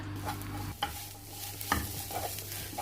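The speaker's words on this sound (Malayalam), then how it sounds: "മസാലയുടെ ഒക്കെ പച്ചമണം മാറുന്ന വരെ ഒന്ന് വഴറ്റിയെടുക്കാം" Beef and onion masala sautéing in a pan for Kozhikode irachi pathiri, with a steady low sizzle broken by a couple of sharp spatula scrapes and clinks, close and fairly quiet, no talking.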